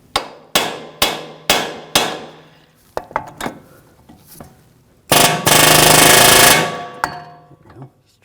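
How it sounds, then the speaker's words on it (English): Loud metal hammer blows ring out in a steady rhythm as a ball joint is hammered out on a 2006-2009 Audi S4 front suspension, then a few lighter taps and a long burst of harsh grinding noise. "you just want to hammer up the ball joint"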